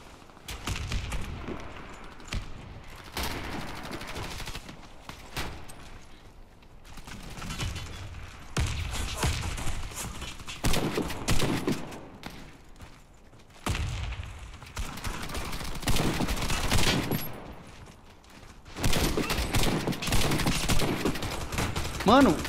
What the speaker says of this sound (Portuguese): Quantos tiros eu dei naquele cara?